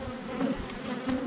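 Honey bees buzz steadily and close around a hive frame being moved by a beekeeper, a dense continuous drone with slight swells in loudness.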